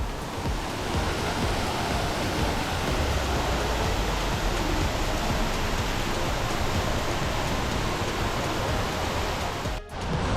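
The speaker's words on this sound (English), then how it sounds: "And here we are at the base of the waterfall." A large indoor waterfall at the base of a shopping mall's atrium, heard as a steady, loud, broadband rush of falling water that continues without a break, nearby and alone.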